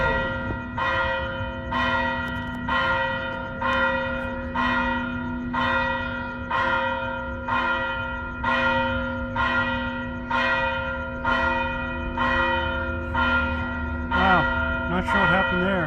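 Church bells ring out at night in Antigua, Guatemala, near Santa Catalina, a steady, evenly spaced series of resonant strikes lasting throughout with a lingering hum between them, moderately loud and slightly distant, with no talking.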